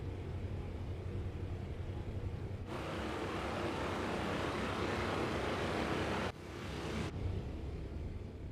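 A steady, droning aircraft engine hum comes from an airplane taxiing toward the runway in a flight simulator at Irkutsk. The sound shifts in tone and loudness a couple of times and no one speaks.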